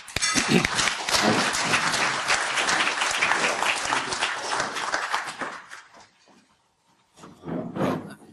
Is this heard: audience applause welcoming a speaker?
yes